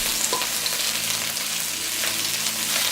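Prawns fry in a pan for a stir-fry with vegetables, their second side hitting hot oil. A loud, dense, crackling sizzle runs steadily throughout with no voices.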